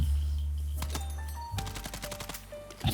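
Rapid bursts of submachine gun fire in a shooter game, sharp cracking shots in quick clusters over a low background rumble, loud and close throughout.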